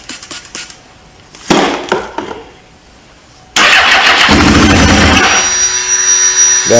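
A 1999 Suzuki GSX-R 750 motorcycle that sat abandoned cranks briefly, then catches on its first start and runs loudly and steadily at close range, revving rough and high over a few seconds.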